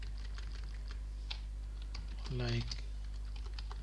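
Scattered keystrokes sound on a computer keyboard while Java code is written, light quick taps under a low steady hum, with someone speaking briefly in the middle.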